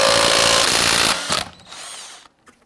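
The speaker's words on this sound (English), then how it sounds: "we're going to use a 22mm socket to loosen and remove our lug nuts" Lug nuts come off a Buick Enclave front wheel with a 22mm socket, loud whirring bursts from a power tool close up that wind down into quieter mechanical noise, with no voices.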